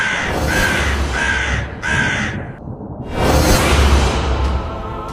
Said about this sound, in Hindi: तीनों बाबा को वो चील उड़ती हुई दिखाई देती है।